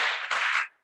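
Two quick hand claps ring out close and crisp with a short echo tail, then silence.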